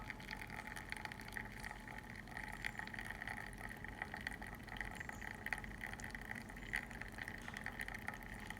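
A Quickmill Achille espresso machine after a full tune-up, pouring espresso in a steady, low liquid trickle over the constant hum of the pump, close by and unbroken throughout.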